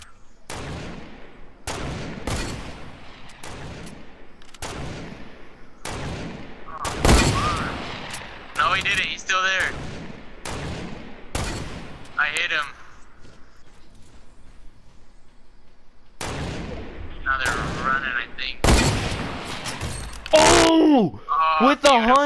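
Rifle gunfire in a shooting video game comes in rapid sharp bursts of shots, loud and close, with lighter game sounds between the volleys.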